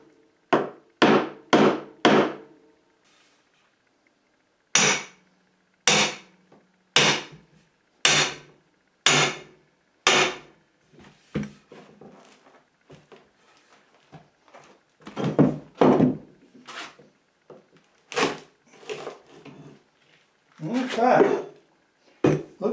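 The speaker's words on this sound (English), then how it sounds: "8 good strikes with my soft hammer." A soft hammer driving a wide chisel to pry up nailed heart pine floorboards gives a series of sharp, loud wooden knocks in quick groups, followed by creaks and scraping as the board lifts.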